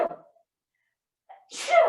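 A single sharp sneeze bursts out near the end after a brief pause, close and loud, preceded by a short soft vocal sound, then silence.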